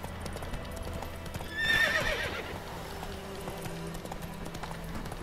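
Rhythmic hoofbeats clatter as a horse gallops in The Witcher 3: Wild Hunt, with a loud whinny rising above them partway through; the sound has a synthetic, game-like quality.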